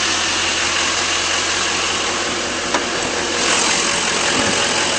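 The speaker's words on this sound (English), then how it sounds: "This truck sounds great and it runs extremely smooth." A 2011 GMC Sierra 3500 Denali pickup idles with a steady, even engine drone, close and continuous, with a small click near the middle and no talking.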